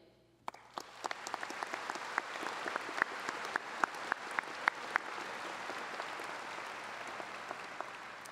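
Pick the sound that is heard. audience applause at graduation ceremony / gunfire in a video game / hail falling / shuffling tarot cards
audience applause at graduation ceremony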